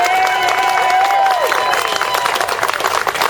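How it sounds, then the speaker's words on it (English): An outdoor crowd at Harbor Seal Day at Alki bursts into loud applause for a sculptor, with clapping and cheering and a drawn-out whistle rising over the steady roar of hands. "please give a huge round of applause to our artist and sculptor"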